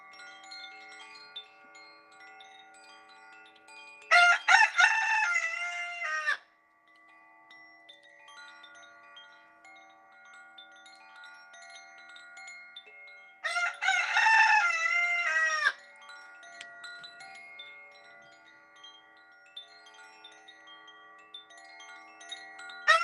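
Two long rooster crows separated by roughly ten seconds ring out fairly close, each a loud strained call, while a soft sustained chime tone hums in the background between and beneath them.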